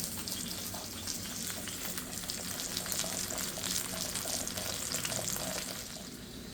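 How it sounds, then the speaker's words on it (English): Chicken pieces sizzle and crackle in a hot skillet while pan searing, a steady, close frying hiss with no talking. "now that I got the chicken in the skillet frying"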